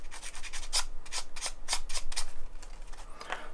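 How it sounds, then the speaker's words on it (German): Short strokes of 600 grit sandpaper rubbing over a plastic model part, a steady rhythm of close, scratchy swipes repeating about every half second. "Und dann mit dem Schleifpapier, da zuerst beim 600er"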